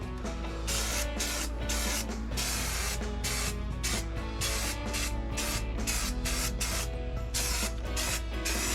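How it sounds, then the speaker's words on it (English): Rust-Oleum rubberized black undercoating sprayed from an aerosol can onto the floor pans of a 1961 Cadillac Series 62, a steady close hiss running continuously with slight pulsing, no talk. "This stuff's pretty nice, this spray."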